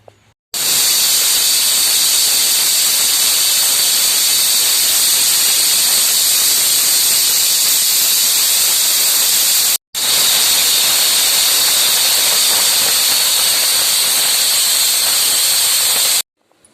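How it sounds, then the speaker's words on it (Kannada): A loud, sustained steam hiss from a pressure cooker, cutting off briefly once before a second long blast. "ಇವಾಗ ಇದನ್ನು ಮುಚ್ಚಳ ಮುಚ್ಚಿ 2 ವಿಜಲ್, ಡೈರೆಕ್ಟ್ ಇಟ್ಟಿರೋದ್ರಿಂದ 2 ವಿಜಲ್ ಹಾಕಿದರೆ ಸಾಕು."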